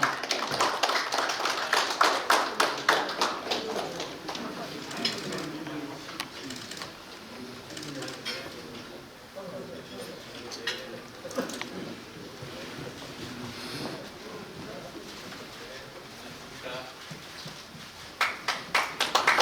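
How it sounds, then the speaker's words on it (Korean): Welcoming applause from an audience as a presidential candidate enters a strategy forum lecture hall, dense clapping strongest at the start, then easing into a steady patter with a fresh burst near the end. "여러분 큰 박수로 환영해 주시기 바랍니다"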